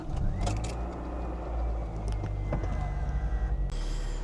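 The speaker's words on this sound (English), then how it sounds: "let's go ahead and get a cold start really quick" A 1990s car engine rumbles at a low, steady idle after a cold start, heard from inside the car with a few light mechanical clicks and a short whirring burst near the end.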